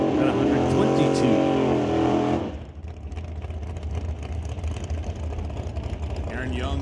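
Loud drag racing engines roar at the finish line of a Super Comp and Super Pro ET bracket race, with a harmonic wail fading about midway into a broad, steady rumble.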